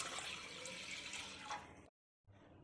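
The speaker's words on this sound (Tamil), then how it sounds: "பச்சை தண்ணி தான் ஊற்றியிருக்கேன், ஒரு 200 கிராம் தண்ணி." Water is poured into a pressure cooker holding washed, roasted lentils, giving a steady, faint splashing stream for nearly two seconds before stopping, then a soft trickle resumes, with no talking.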